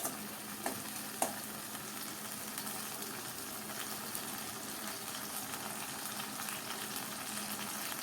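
Onions and tomatoes frying in oil for a methi leaf curry: a continuous soft sizzle with a couple of faint clicks at the start, steady and fairly quiet throughout.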